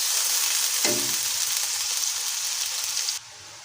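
Ginger garlic paste sizzles loudly and steadily in hot oil in a pan, with a brief scrape partway through, before the frying noise drops suddenly near the end.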